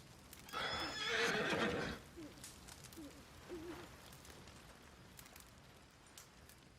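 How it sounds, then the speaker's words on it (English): A horse whinnies loudly up close in Red Dead Redemption 2, then snorts and shifts, followed by quieter hoof clops and faint movement. "The horse."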